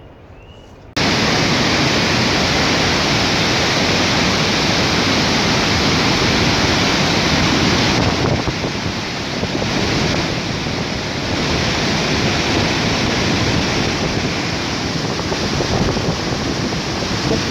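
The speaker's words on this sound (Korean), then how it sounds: "폭포물을 한번 쳐다보고 있으니까" Roaring waterfall at Livingstone, Zambia, a steady, loud, broadband rush of falling water that starts abruptly after a second of quiet and continues unbroken, close and enveloping with no voices.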